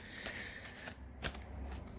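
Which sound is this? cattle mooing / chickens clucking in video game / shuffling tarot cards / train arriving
shuffling tarot cards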